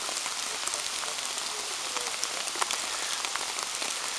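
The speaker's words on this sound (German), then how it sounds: "wollen wir hoffen, dass der Schauer gleich vorbeigeht" A rain shower patters steadily on a tent in a forest, with dense, even drumming and scattered louder drops landing close by, and no voices.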